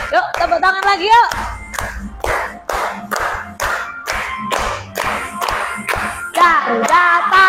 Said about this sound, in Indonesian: Yuk, tepuk tangan lagi yuk.